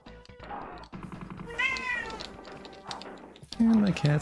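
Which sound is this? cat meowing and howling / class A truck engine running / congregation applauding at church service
cat meowing and howling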